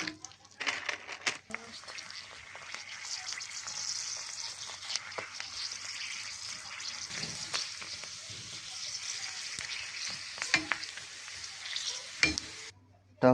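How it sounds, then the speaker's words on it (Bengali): Fuchka puris fry in hot oil, giving a continuous close sizzle with crackles and the clatter of stirring, and a voice speaks over it at times. "ফুচকা নিয়ে নিয়েছি, এখন ভেজে নেব।"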